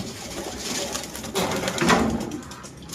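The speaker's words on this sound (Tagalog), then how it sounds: "May halak pa tong ibon na to." A pigeon coos softly a couple of times against a hissy, noisy outdoor background.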